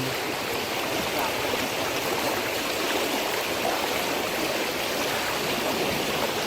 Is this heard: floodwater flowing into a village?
yes